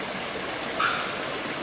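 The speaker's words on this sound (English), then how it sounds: "this is a clear example of water coming out from the mountain" Water trickling and flowing steadily out of the base of a huge mountain near Cumaca Cave in Valencia, Trinidad, a soft continuous stream with a brief slight swell, heard alone.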